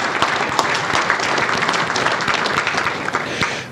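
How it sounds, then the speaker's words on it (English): An audience at a startup founders' event applauds, dense continuous clapping at a fairly loud level that holds steady for nearly four seconds before easing off slightly. "can we get a quick round of applause for her as well?"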